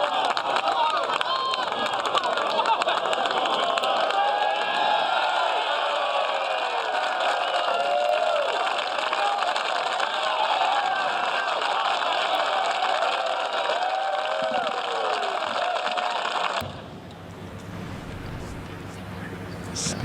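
Golf gallery at the U.S. Open at Chambers Bay, a sustained roar of cheering and applause as a putt rolls past the hole, loud and continuous before cutting off abruptly.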